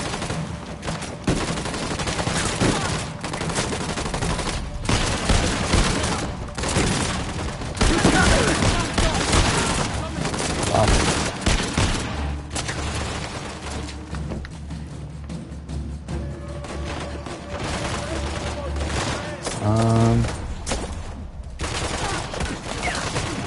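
Gunfire rattles through a firefight in Uncharted: The Lost Legacy. Loud, dense bursts of automatic shots and scattered single cracks layer over game effects, with a brief spoken voice mixed in.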